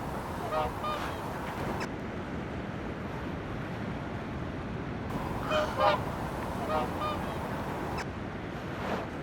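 Waterbirds on the Northumberland coast give repeated goose-like honking calls at a moderate distance, in scattered bursts over a constant wash of wind and surf, with no voices.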